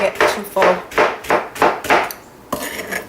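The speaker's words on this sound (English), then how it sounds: "I'm chopping this up for after dinner" A knife chops through fresh pineapple on a cutting board in a home kitchen, with about seven close, loud, evenly spaced chops.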